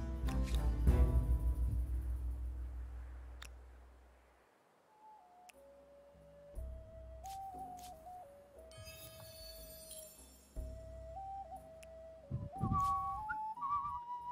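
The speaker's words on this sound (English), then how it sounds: "Just me whistling away to the tune" A person whistles a wandering melody alone and fairly close, with sustained held notes and slides after a burst of louder game or background noise at the start, set against strategy-game play.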